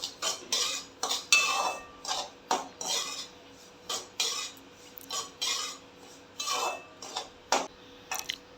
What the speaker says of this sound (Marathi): रवा मी एक मिनिट नुसताच भाजून घेते आहे